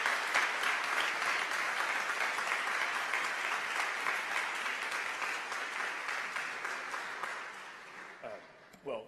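Steady, sustained applause from a large graduation audience welcoming Washington Post reporter David Fahrenthold, holding loud and even before tapering off near the end.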